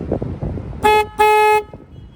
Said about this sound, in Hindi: तो ये हमारा हॉर्न बज रहा है